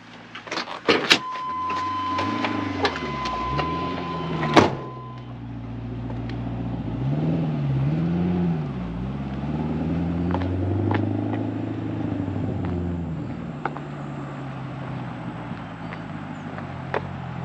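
A Pontiac GTO with a new clutch is driven under its own power. Low engine tones rise and fall through several gear changes, with a few sharp clicks and knocks near the start.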